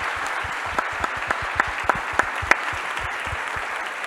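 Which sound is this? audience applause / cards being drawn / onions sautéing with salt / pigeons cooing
audience applause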